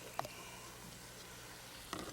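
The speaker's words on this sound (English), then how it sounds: "Frying already, that's good." Onions and celery fry softly in a pan with a steady, faint sizzle, broken by a couple of brief clinks or pops.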